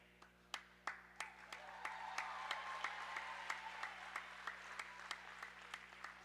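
A crowd claps at a juniors baseball doubleheader, beginning with a few separate sharp claps that quickly fill into steady, moderate applause from a modest crowd, heard at a distance.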